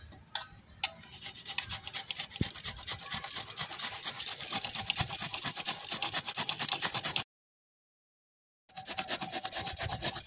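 Bottle gourd grated on a salad grating machine gives a steady, close, loud rasping scrape that runs without pause for about seven seconds, stops for over a second, then starts again.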